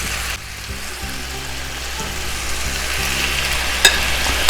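Lemon chicken fries in a pan with a loud, steady sizzle and crackle, overlaid by a faint low repeating hum and a brief clink near the end, with no talking.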